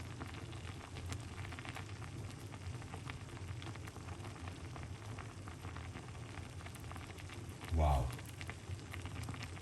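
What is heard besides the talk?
food simmering in a pot on the stove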